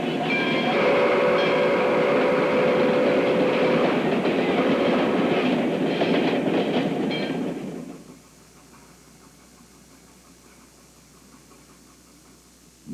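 A Baldwin steam locomotive of the Bonhomie & Hattiesburg Southern shortline rumbles past loudly with rolling, clattering car noise, then fades abruptly to a faint distant hum.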